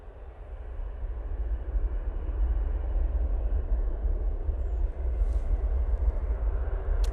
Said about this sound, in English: Virgin Atlantic A330 coming on now.